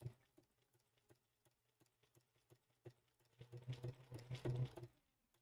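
A Bernina sewing machine fitted with a #86 ruffler foot stitches in short bursts of rapid mechanical ticking, then speeds into a denser, louder whirring run toward the end, close up with no talking.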